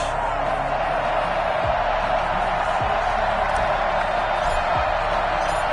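Stadium crowd at an NFL game between the Los Angeles Chargers and Pittsburgh Steelers, a steady, dense roar of many voices filling the space without letup, with no distinct bursts of cheering or clapping standing out.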